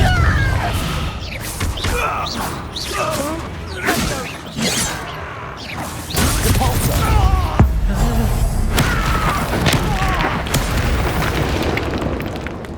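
Spell-casting in Hogwarts Legacy, with a Confringo fire spell bursting among Levioso casts during combat. Several booming blasts and whooshes layer over game music and shouted voices.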